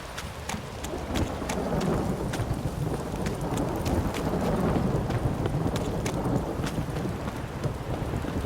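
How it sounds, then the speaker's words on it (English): Heavy rain and rolling thunder fill a stormy scene in The Witcher 3: Wild Hunt video game, a dense, constant downpour with sharp crackling strikes scattered throughout and faint hoof clops underneath. "This downpour's a bastard, it is."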